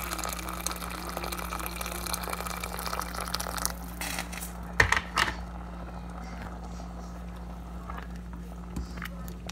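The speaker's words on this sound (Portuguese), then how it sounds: "Agora vou botar água quente." Hot water poured into a pot of washed rice gives a steady, close liquid pour over a low hum, with a brief clatter partway through.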